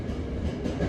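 A Toei 5300 series train with a Mitsubishi GTO inverter rumbles steadily in a brief burst of running noise, low and continuous under moderate volume.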